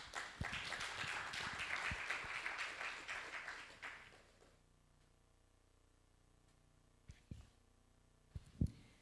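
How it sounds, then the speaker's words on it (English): An audience at an industrial summit in Ghana applauds as the CEO of Impact Investing Ghana is called up. Dense clapping fills the first four seconds, then stops abruptly, leaving near-silence with a few isolated knocks. "A round of applause for her."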